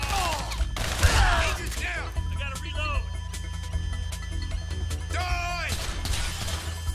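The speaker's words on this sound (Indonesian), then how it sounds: "Nembak siapa lu Michael" Gunfire in the GTA 5 video game, sharp bursts of shots and crashes scattered through a short stretch, mixed with excited talk.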